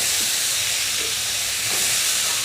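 Banana stem fry is stirred in a hot pan, giving a constant loud hissing sizzle with a few faint scraping touches, and no voices.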